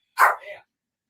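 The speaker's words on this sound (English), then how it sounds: "I think guy next door is walking his dog or something." A single dog barks once next door, a short sharp bark with a softer tail, moderately distant and alone in otherwise silent surroundings.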